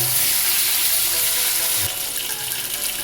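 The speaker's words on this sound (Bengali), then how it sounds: "সামান্য জল দিয়ে মশলাটা কষিয়ে দিচ্ছি।" Steady broadband hiss and sizzle as a little water is poured into a pan of frying spices and potatoes for a soybean potato curry, continuous throughout with a slight shift partway.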